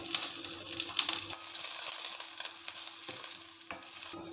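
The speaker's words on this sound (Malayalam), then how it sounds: "കുറച്ച് കറിവേപ്പിലയും ചേർത്തിട്ട് വഴറ്റി കൊടുക്കാം." Chopped shallots and curry leaves sauté in hot coconut oil for a mackerel curry, giving a soft, steady crackle with light clicks of stirring, fairly quiet and close with no voices.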